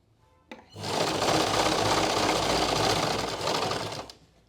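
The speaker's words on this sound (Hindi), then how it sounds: "इस तरह से सिलाई लगाते जाना है आपने" An electric sewing machine runs a continuous stitching burst of about three and a half seconds along a salwar seam, loud and close, starting after a brief click and stopping abruptly.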